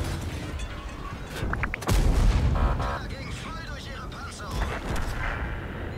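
A light tank in World of Tanks fires a high-explosive shell, a single heavy, booming cannon shot partway through, set among game sounds and a nearby voice.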